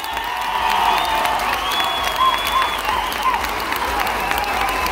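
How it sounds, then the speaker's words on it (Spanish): A crowd at a jaripeo during a patronal festival applauds a finalist bull, clapping mixed with cheers and whistles. "le regalan el aplauso"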